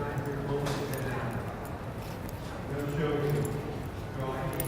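Horse hooves clip-clopping at an easy pace, moderately close, under people talking.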